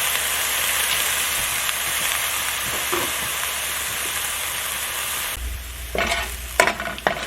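Garlic and onion sauté in a pan, a continuous soft sizzle and crackle with occasional stirring scrapes, then a louder low rumble and clatter near the end.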